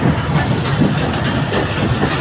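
A train runs through Chulkati railway station, and its loud, continuous rumble and rattle of wheels on the track sound close by.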